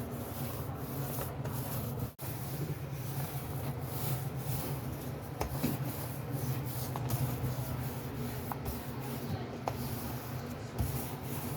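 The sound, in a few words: spreading Daich Spread Stone countertop paint by pushing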